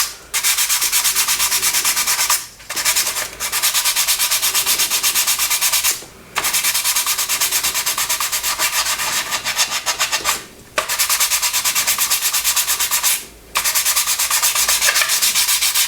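Coarse sandpaper rubbed steadily across the wing of a 1/24 scale Airfix Spitfire plastic model kit, a loud, continuous close-up scratching rasp broken by a few brief pauses.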